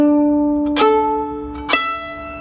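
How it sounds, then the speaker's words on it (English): Hardanger fiddle with its upper strings bowed, sustained bright double-stop tones broken by two sharp bow changes, ringing close and alone with a faint sympathetic resonance. "So the upper strings sound like this,"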